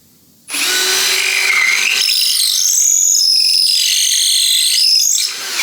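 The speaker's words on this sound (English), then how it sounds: "We got to drill a hole basically through here so that you can run wires" Power drill boring a wire hole through a solid walnut Telecaster guitar body, starting abruptly into a loud, whining, grinding bite that shifts in pitch as the bit cuts, steady for about five seconds, close with no talk.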